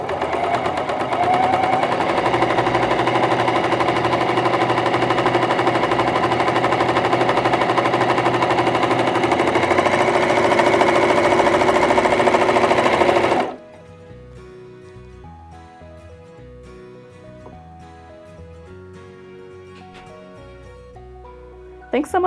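A Janome CoverPro 3000 coverstitch sewing machine runs steadily at high speed, loud and close, for about thirteen seconds, then stops abruptly and soft music takes over.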